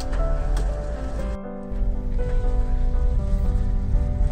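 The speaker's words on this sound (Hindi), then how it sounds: "बारिश बहुत ही ज्यादा हो रही है" Heavy monsoon rain pours steadily onto a surface in India, a dense continuous roar with a brief dip partway through before resuming just as loud.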